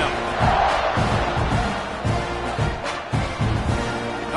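A college football stadium crowd roars loudly and steadily around a kickoff against Texas A&M, a dense, sustained wall of cheering with surges and no clear talk on top.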